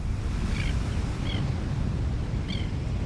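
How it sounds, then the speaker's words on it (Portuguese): Tidal seawater surges in and out of rocky shoreline pools as a steady, loud rush of washing water, with a few faint high bird-like chirps above it. "Com as marés, a água constantemente vai e vem nas poças nas rochas."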